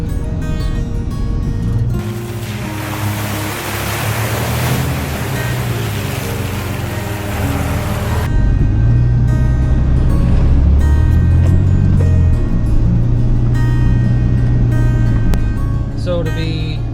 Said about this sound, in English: that was the first time that I'd gone through that much water in this Jeep